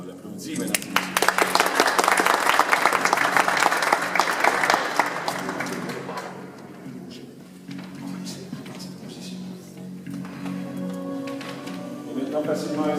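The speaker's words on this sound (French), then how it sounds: "Levez les mains très hautes et on l'applaudit maintenant." An audience at a hypnosis show bursts into loud, dense applause that swells for several seconds, then thins and fades into a quieter room with a voice speaking over the tail end.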